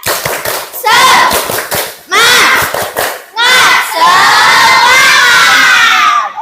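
A classroom of schoolchildren perform a rhythmic clapping cheer, with bursts of sharp hand claps alternating with loud group shouts, close and energetic, several rounds in quick succession.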